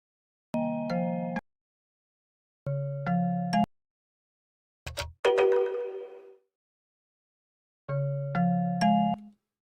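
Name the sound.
phone ringing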